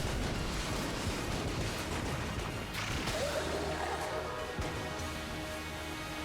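Rocket explosions crash and boom in quick succession in the roguelike shooter Enter the Gungeon, a dense, loud barrage of blasts and bursts with no break across the whole stretch.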